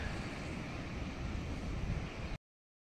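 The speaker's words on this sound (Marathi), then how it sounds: "मस्त वारं, समुद्राच्या लाटांचा आवाज, एकदम पीसफुल वाटत होतं" Sea waves and wind on Malvan beach at sunset: a steady, broad wash of surf and gusting wind rumbling against the microphone, continuous and fairly faint, then cut off abruptly.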